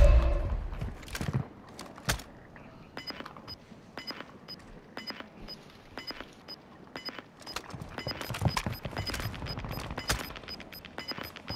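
Quick scattered bursts of gunfire in the battle royale game Warzone 2, sharp cracks and short rapid volleys at moderate distance, with quieter stretches and faint clatter between shots.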